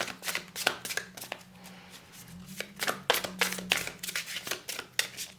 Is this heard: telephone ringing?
no